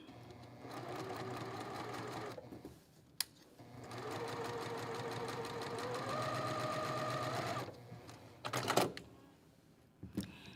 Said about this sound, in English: So I'm going to stitch directly on the line.